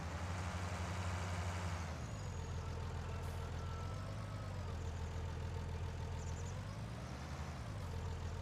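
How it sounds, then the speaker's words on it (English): A tractor engine in Farming Simulator 19 idles with a steady low rumble, loud and unbroken throughout, with a slight shift in tone partway through and no talking over it. "We'll hook the tractor up."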